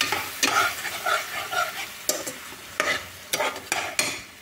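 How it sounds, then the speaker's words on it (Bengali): Broken wheat (dalia) is stirred in a frying pan over a soft sizzle, with a spatula scraping close by in a rhythm of repeated strokes and no talking. "ডালিয়াটা দিয়ে ভালো করে নেড়ে নিই। 5 মিনিটের মতো ভালো করে নেড়ে নিতে হবে"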